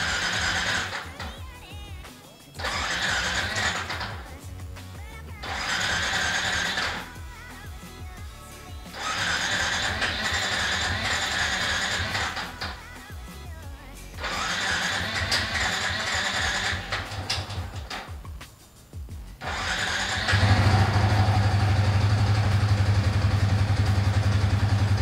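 A Yamaha Vixion motorcycle engine, just rebuilt after a cracked crankcase, cranks in repeated bursts of starter whirring separated by pauses, then catches and settles into a steady, loud, close idle.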